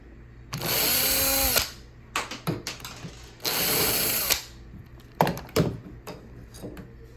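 A power drill with a 1/4 inch bit bores out loose door hinge screw holes, whirring in two sustained bursts of about a second each, separated by short stuttering spurts and clicks, close by and with no talk.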